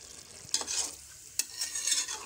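Mutton sautéing in a pot for panch rangi mutton pulav, with a few quick spoon scrapes over a soft sizzle, close and brief with no talk.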